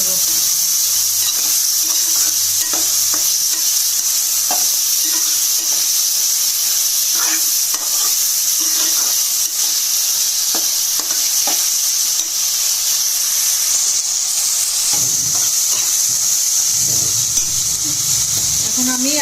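Chicken roll filling with turmeric powder sizzles loudly in a hot pan, a steady frying hiss punctuated by irregular spatula stirs and scrapes throughout, with a brief voice speaking near the end.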